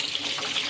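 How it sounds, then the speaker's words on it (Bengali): Tap water runs steadily as cleaned shrimp are rinsed, a brief, even splashing stream. "এবার আমি ভালো করে জল দিয়ে ধুয়ে নেব।"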